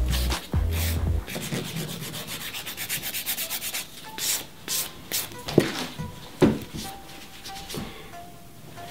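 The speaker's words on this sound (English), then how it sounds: "the 180 grit file is perfect for it." A 180 grit hand file rubs across a gel nail in quick back-and-forth strokes, a close, dry scratchy sanding sound in bursts with brief pauses, alone without talk.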